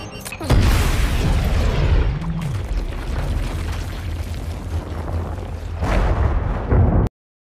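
A huge weapon blast in a film erupts with a sharp boom, then a long roaring rumble and debris clatter that fades before a second burst near the end, loud and alone.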